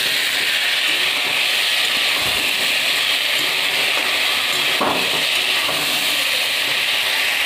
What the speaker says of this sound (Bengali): ভালো করে এটাকে এখন কষিয়ে নেব।